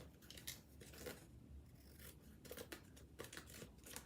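Scissors snipping paper along an envelope shape, soft close rasping cuts in an uneven rhythm, quiet and with no voices.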